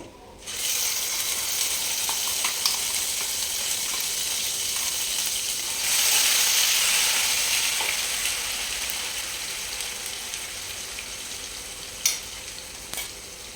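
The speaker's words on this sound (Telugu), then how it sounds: "మనం ఇందులోకి ముందుగానే మిక్సీ పట్టి పెట్టుకున్న పచ్చి మసాలా పేస్ట్ వేస్తున్నాం." Green masala paste sizzling in a frying pan with fried cumin and mustard seeds gives a loud, steady hiss that surges when the paste lands, then eases, with a few sharp clicks from stirring.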